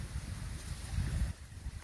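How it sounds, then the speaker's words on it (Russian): Strong wind buffets the microphone in a steady low rumble, gusting harder for a moment before easing slightly. "достаточно сильный ветер сегодня"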